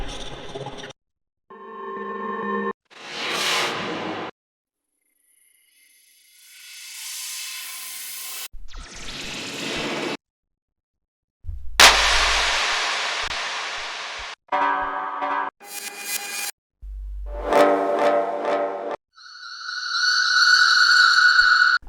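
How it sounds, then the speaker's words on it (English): Electronic production effects for building and releasing tension in a track: a series of separate risers, sweeps, white-noise swooshes, deep booming impacts and glitchy chopped bursts, each separated by short silences. "I'm going to be showing you how to make and use effects in your tracks that sound something like this."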